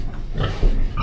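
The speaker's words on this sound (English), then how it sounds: "All 3 pigs in the trailer." Pigs oink and grunt inside a livestock trailer on a farm, several close, loud squealing grunts overlapping in a brief burst with a thump of hooves near the end.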